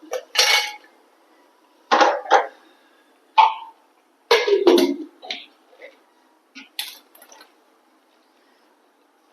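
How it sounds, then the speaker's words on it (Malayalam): Dried red chilies and asafoetida being ground into powder for idli podi, heard as several short, loud bursts of hard rattling and clattering separated by pauses, with no talking. "നമുക്ക് മുളകും കായും ആദ്യം ഒന്ന് പൊടിച്ചെടുക്കുക"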